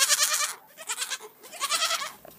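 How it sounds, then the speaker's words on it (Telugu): A young goat bleats in a village setting, several wavering cries in quick succession, fairly close and alone without talk. "మేకపిల్ల సోమయ్య వైపు ప్రేమగా చూసి"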